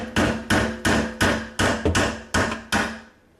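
A garbage disposal mounting ring is knocked counterclockwise with a hammer in eight sharp metallic taps at a steady rhythm, each ringing briefly before the next, close and loud with no talking.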